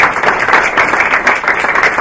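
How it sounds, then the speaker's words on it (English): Audience applause at a science communications summit, a dense steady wash of clapping that fills the full two seconds at an even, fairly loud level with no voices on top. "I'd like you guys to give them a round of applause."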